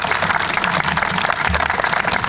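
Audience applause at a community park ribbon-cutting ceremony for the Ladera Linda park, a steady outdoor wash of many hands clapping at moderate loudness throughout, with no talk over it.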